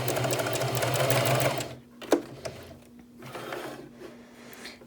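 A sewing machine doing free-hand machine embroidery runs in a loud, fast whirring burst close by, then stops, leaving a few small clicks and quiet handling noises.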